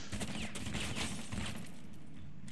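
Rapid bursts of pistol gunfire from Kaveira in Rainbow Six Siege, several sharp cracking shots in quick succession at close range, loud over ambient game noise; no talking.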